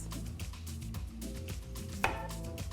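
Knife chopping broccoli stems on a board, steady rapid thuds close up with a brief sharper clank near the end.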